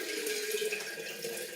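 A steady stream of liquid pours and splashes close by into a kombucha brew, with a continuous watery rush and no voices.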